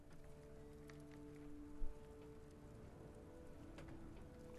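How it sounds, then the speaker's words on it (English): Steady rain falls over London in the Sherlock Holmes video game, a soft continuous patter with scattered drop ticks, one brief louder knock partway through, faint and unbroken throughout. "It's always raining in London"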